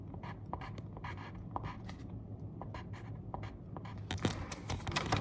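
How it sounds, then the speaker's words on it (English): A pencil or pen scratches out math on paper in short, quick strokes and taps, close and fairly quiet, with brief pauses between bursts of writing. "so I write it out here"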